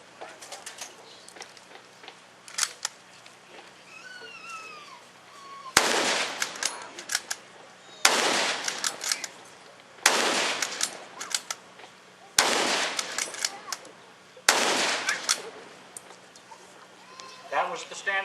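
A WWII-era German standard infantry rifle fires five loud, sharp shots, spaced roughly two seconds apart, each with a short echoing tail outdoors. Faint bird chirps come before the first shot.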